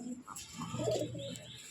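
Cooing from a flock of thirty to forty domestic pigeons kept for sale, low and soft, with a few overlapping coos and faint chirps close by against a quiet backdrop.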